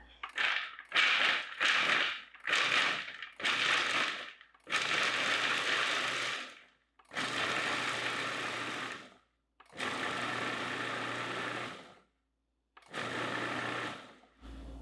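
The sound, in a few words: food processor pulsing and chopping nuts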